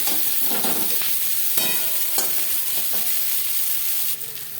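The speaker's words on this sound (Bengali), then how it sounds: "পেঁয়াজ ভাজা হয়ে এসছে" Onions sizzle steadily in a hot pan, with a few scraping stirs of a utensil over the constant frying hiss.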